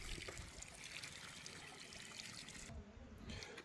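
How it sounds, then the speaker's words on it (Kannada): Water trickles and flows into a carp fry pond at a state fish farming centre in Hesaraghatta, Bangalore, a faint, steady outdoor gurgle with no speech. "ನೀರು ಬಿಟ್ಟಿದ್ದಾರೆ, ನೀರು ಹೋಗ್ತಾಯಿದೆ."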